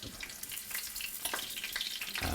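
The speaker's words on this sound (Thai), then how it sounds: "ไส้กรอกอีสานกับหม่ำทอดรวมกัน" Isan sausage and mam, fermented beef sausage, fry together in hot oil, giving a steady close sizzle with crackling pops and no talk.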